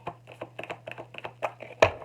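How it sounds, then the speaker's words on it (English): Moonology oracle cards are shuffled in quick, crisp flutters, a dozen close snapping taps in an irregular rhythm ending on one louder slap, over a faint low hum. "Let's shuffle this."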